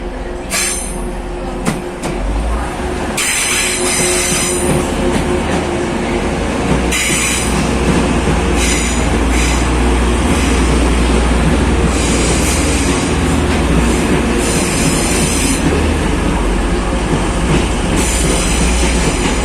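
A Class 331 electric train rumbles steadily along the rails, with rhythmic wheel clatter and bursts of high metallic squealing throughout, loud and close.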